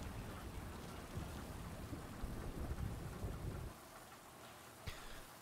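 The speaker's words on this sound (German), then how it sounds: "Hey, regnet." Steady rain patters and a low thunder rumble builds in the Mafia Definitive Edition video game, the heavy rumble fading after a few seconds while the rain continues, with a faint knock near the end.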